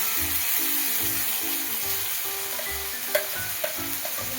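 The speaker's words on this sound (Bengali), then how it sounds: "পেঁয়াজ আদা রসুন শুকনো লঙ্কা সব কিছু পেস্ট ঢালা হলো" A paste of onion, ginger, garlic and dry chilli fries in a pan. It gives a loud, steady sizzle, with the stirring spoon scraping and knocking against the pan now and then.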